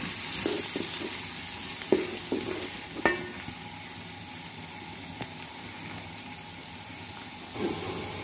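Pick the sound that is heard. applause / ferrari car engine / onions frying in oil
onions frying in oil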